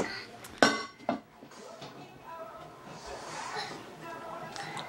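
A child handles cookie jars in a home kitchen while cupcakes are being made, giving two sharp ceramic clinks near the start followed by softer shuffling, with voices talking throughout.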